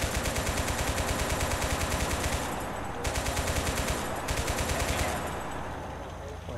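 Rapid automatic gunfire from the war video game Total Conflict Resistance, amid a battle with tanks and infantry, rattles out in loud, dense, continuous bursts broken only by brief pauses.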